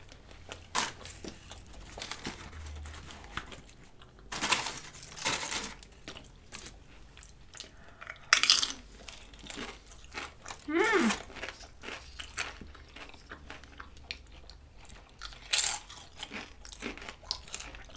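Taco Bell food being chewed and crunched close up at an eating show, with irregular bursts of crunchy bites between quieter stretches and some talk mixed in.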